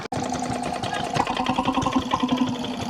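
A vintage tractor engine at a show chugs in a steady, rapid rhythm, a loud mechanical putter close by with knocking pulses throughout.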